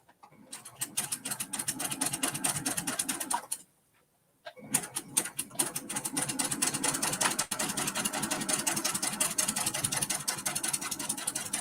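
A sewing machine runs fast, basting a mini quilt with a long stitch length, its steady rapid mechanical chatter pausing briefly for about a second before starting up again and continuing.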